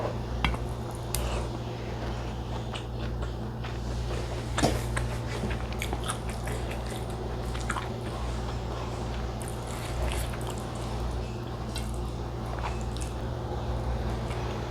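Close-up chewing of stir-fried bamboo shoots, soft squishy bites and occasional crunches repeating steadily over a constant low hum, with no talking.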